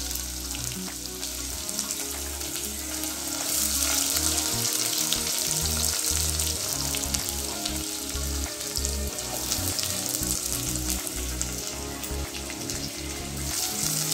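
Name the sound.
onions frying in oil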